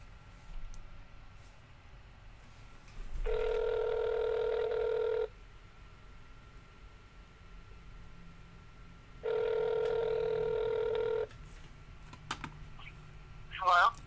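A cell phone call rings twice in an office setting, each ring a steady electronic tone lasting about two seconds with a long gap between, clear over a quiet background.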